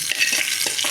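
Hot mustard-seed and curry-leaf tempering poured into a bowl of kadambam chutney, giving a close, steady hiss and crackle that runs the whole moment with soft wet stirring underneath.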